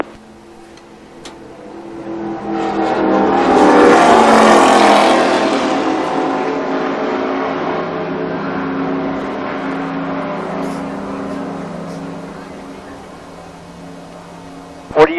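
A NASCAR stock car at Daytona International Speedway, driven as part of the Richard Petty driving experience, revs up as the engine climbs loudly toward the rev limiter, then holds a steady drone before easing off, heard from inside the car.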